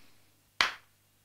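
A single sharp hand clap rings out once, close and bright, against an otherwise quiet background, with no talk around it.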